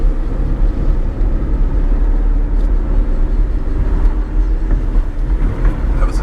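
An old car bought at a salvage auction drives along with a steady, continuous engine drone and road rumble; the revs climb and settle through gear changes, with no one talking.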